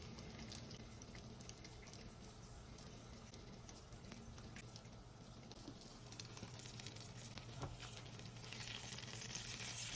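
Bacon frying low and slow in a pan for carbonara, a steady, even sizzle with soft crackles and pops that holds at a moderate level for the whole stretch, with no voices.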